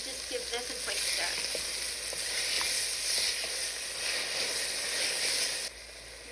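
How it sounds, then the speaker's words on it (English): Diced onions with bay leaf and garlic-ginger paste sizzle steadily in a pan, a soft continuous fry with faint stirring scrapes throughout. "A little bit of salt to help our onions cook, and just give this a quick stir."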